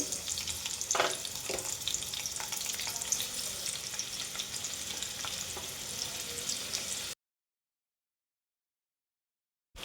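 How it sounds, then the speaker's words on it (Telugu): Chopped onions fry in hot oil for egg curry, giving a constant broad sizzle with occasional stirring clinks for about seven seconds before it cuts to silence. "ఆయిల్ వేడైన తర్వాత ముందే కట్ చేసి పెట్టుకున్న ఉల్లిపాయలను యాడ్ చేసుకోవాలి"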